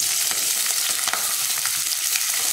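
Green chilies and garlic cloves fry in hot oil for a Chettinad okra and field bean mandi, a steady close crackling sizzle with brief louder pops throughout and no voices.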